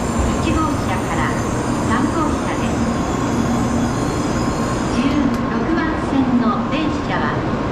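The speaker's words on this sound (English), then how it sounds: "Shinkansen's coming right now." Shinkansen bullet train pulling into a Japanese station, a steady loud rumble and rush of rail noise with faint wheel squeals, voices murmuring underneath.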